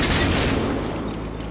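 Tank cannon firing in World of Tanks, a single loud, close blast at the start that fades into a rumbling decay over about a second and a half.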